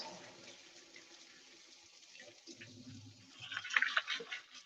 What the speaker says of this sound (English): I'm just going to rinse this stuff off real fast.